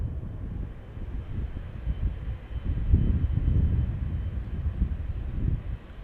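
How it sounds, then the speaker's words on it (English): A KLM Boeing 777-300ER, ten years old, departing runway 36L at Amsterdam Schiphol gives a steady low rumbling engine roar that swells slightly midway, heard from a distance with wind noise and no talk. "this 777 KLM flight 681 is a 300 ER, 10-year-old"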